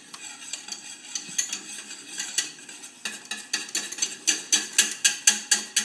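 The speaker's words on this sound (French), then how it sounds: "De temps en temps, on peut ôter la casserole du feu. Touiller" Flour paste glue thickening in a saucepan is stirred with a utensil, giving steady scraping and clinking strokes that grow louder and more regular toward the end, with no voices.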